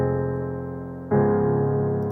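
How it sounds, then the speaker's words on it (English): A sampled EXS Yamaha piano plays a sustained chord, then a second, louder and brighter chord strikes and rings on, with no voices. "So this is the EXS Yamaha piano on its own."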